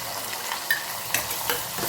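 Tomatoes, a green chili and garlic fry in a pan with a steady, close sizzle, and a few soft scraping stirs punctuate the hiss.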